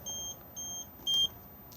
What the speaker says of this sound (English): If I now press this, it will beep at us at the moment because we haven't got the engine running.